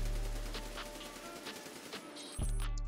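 Bursts of automatic fire from an unsuppressed HK416 rifle in the video game Escape from Tarkov come as a rapid, steady string of shots. The burst is loud and close and ends abruptly.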